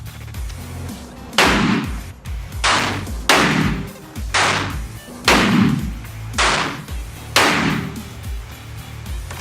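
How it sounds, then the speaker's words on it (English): Smith & Wesson 500 Performance Center revolver with a ported barrel, fired at a range: seven loud, booming shots about a second apart, each with a short ringing tail. "Smith & Wesson 500. Performance Center, ported barrel."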